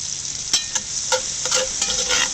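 Loosely chopped onions fry in a Dutch oven with a steady close sizzle, while a spoon stirs them in a few light scrapes and clinks.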